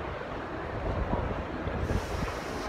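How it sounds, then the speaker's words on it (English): Wind blowing by the River Thames in London on a freezing cold day, a steady loud rushing and buffeting against the microphone with no voices. "It's windy and it's freezing cold."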